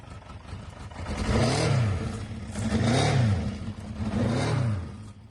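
A Honda CB750K motorcycle engine with a ratty, worn, non-original exhaust revs three times in succession, each blip swelling into a wheezy, lawnmower-like drone and falling back to idle, close and moderately loud.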